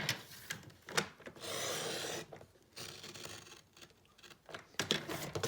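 Scissors rasp and snip through paper, cutting 4x4 corners for an explosion box, in a few short bursts, with a longer steady cutting stretch in the middle, close and fairly quiet.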